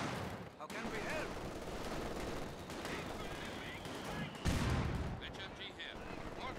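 Machine gun fire in a military video game, a dense steady stream of gunshots running throughout, with a louder heavy burst toward the end.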